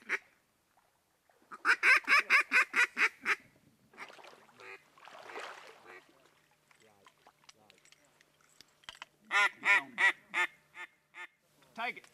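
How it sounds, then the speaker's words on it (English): A hen duck call blown during a waterfowl hunt in Alberta, with loud rhythmic runs of quacks in two bursts separated by quieter stretches and some brief talk. "Dale, put that old lonesome hen on him and he fell out of the sky"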